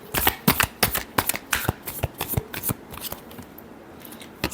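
A deck of tarot cards is shuffled by hand, giving a quick irregular run of crisp riffling snaps and slaps, close and clear with no talking.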